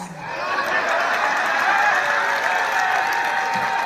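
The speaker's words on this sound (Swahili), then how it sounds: "simunipigie makofi bana" A political rally crowd on a Ruto coast tour in Kenya claps in a dense, loud burst of applause that holds steady throughout, with scattered cheers mixed in.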